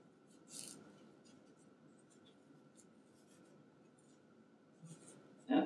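Small scissors trim a paper arm piece for a stamped greeting card, giving faint, close snips and soft rubbing scrapes. A louder crisp cut lands at the end, with no talking.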